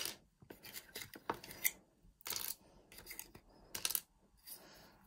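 Small plastic toy pieces rattling and clicking as they are tipped out of a toy capsule, several bursts of light clatter with brief pauses between them, close and moderately loud, with no talking.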